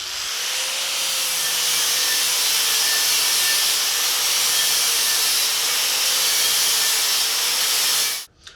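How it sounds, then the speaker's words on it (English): A curved flap wheel on a grinder blends a steel fillet weld smooth on a boiler and firebox build, making a steady, loud abrasive whir with a slight wavering pitch for several seconds before cutting off abruptly, heard alone up close. "blend this fillet weld in using a curved flap wheel"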